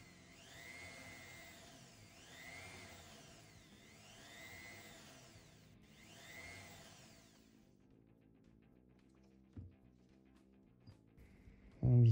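A rotary tool polishing the feed ramp of a 1911 pistol, a whining motor that rises and falls in pitch in repeated sweeps as it works the metal, then stops, leaving quiet handling and a thump at the end.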